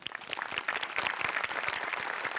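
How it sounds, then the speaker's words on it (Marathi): A studio audience applauds a comedy sketch on the Marathi stage show Maharashtrachi Hasyajatra, with brisk, dense clapping that holds at an even level throughout. "दोघांसाठीही टाळ्या"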